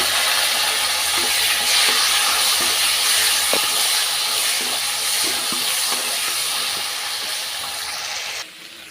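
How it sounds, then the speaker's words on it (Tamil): Onion, garlic and tomato sautéing in a pan, a steady loud hiss and sizzle running the whole time, with light stirring scrapes and clicks scattered through. "வெங்காயம் பூண்டு எல்லாமே நல்லா வதங்கிருச்சு இப்போ ரெண்டு தக்காளி கட் பண்ணி அதையும் சேர்த்துக்கிறேன்"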